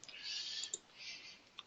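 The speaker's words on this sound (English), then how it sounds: "If I just right click" A computer mouse gives a right click, a few soft, faint, isolated clicks spaced apart against near silence.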